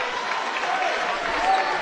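Basketball crowd at a Class 2 boys' quarterfinal game, a steady low roar of cheering and applause with no break, moderately distant.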